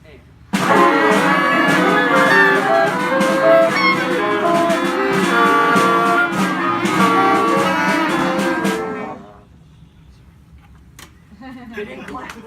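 A school band of young beginners playing deliberately badly, a loud dense jumble of clashing wind and brass notes for about nine seconds before it cuts off into near silence with small scattered sounds.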